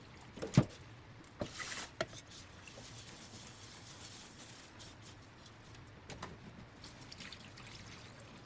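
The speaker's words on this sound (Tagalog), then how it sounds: "paghuhugas ng bigas, gawin ito ng ilang ulit hanggang mawala ang dumi nito" Rice being rinsed in water for cooking in a rice cooker: quiet sloshing and trickling, with a few brief splashes and clinks early on, then softer swirling water.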